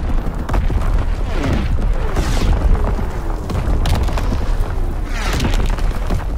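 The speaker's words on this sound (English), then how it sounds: "Incoming enemy artillery!" Artillery explosions rumble in Call of Duty WW2, heavy booms rolling one after another through a loud, continuous battle din with scattered bursts.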